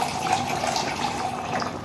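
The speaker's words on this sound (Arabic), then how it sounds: "طبعا انا هدلق عليها شويه ميه كده" Water poured from a vessel into a pot of cooking potatoes, a steady close splashing pour that runs unbroken for about two seconds with no talk over it.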